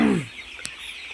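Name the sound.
chickens, about 13 days old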